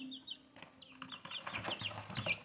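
Chicks cheeping in a brooder, with high thin peeping calls repeating irregularly at a faint level, close by and mixed with soft low clucking tones.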